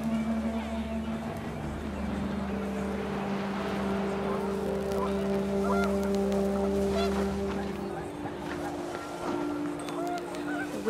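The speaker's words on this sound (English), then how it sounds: "The wind picked up, and panicked geese appeared and quickly went." Panicked geese honk repeatedly in the What Remains of Edith Finch video game, a cluster of nasal calls rising over wind and a low, droning engine-like hum, with a few speech-like sounds in the mix.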